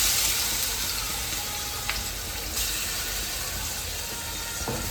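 Garlic sizzles in hot oil in a home kitchen pan, a close, steady frying hiss with a few faint clicks and pops and no voices.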